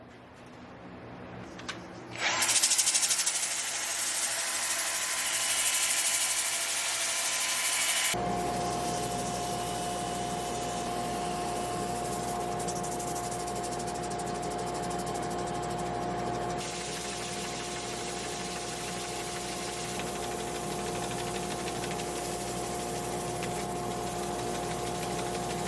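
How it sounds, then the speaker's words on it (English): A power sander works over a wood-turned bowl made from firewood, starting after a brief clatter and then running as a steady, loud whir with a constant tone, continuing alone throughout. "who's ready for some sanding?"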